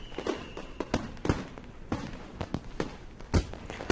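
Distant fireworks crackle and pop in Katawa Shoujo, a steady irregular series of sharp bursts with softer thuds between, moderately faint and without any voices.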